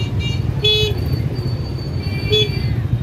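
Vehicle horns tooting in street traffic by a vegetable market, several short honks amid a steady rumble of road noise.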